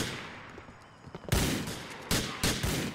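Gunfire in Grand Theft Auto 4: after quiet, a loud broadband blast hits, followed by two more sharp, close shots in an uneven burst with no talking.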